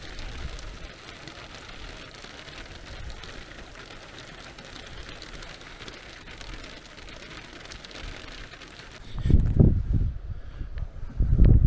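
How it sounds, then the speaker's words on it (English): Light drizzle during an autumn storm on a mountain top, a soft steady patter with faint hiss, then louder low rumbles and gusty noise in the last couple of seconds. "the rain has died down and it's just drizzling at the moment"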